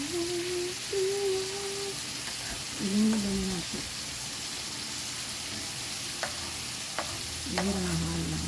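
Sliced bitter melon, or ampalaya, sizzles and crackles steadily in a pan while being sautéed and stirred, with occasional scraping and faint clinks, under a voice speaking in short bursts.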